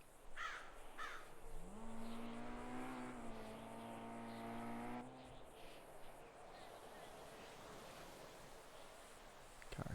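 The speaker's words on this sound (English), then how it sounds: "Car speeding by." A car speeds by in GTA V, its engine drone rising and holding for a few seconds before cutting off, faint against quiet game ambience.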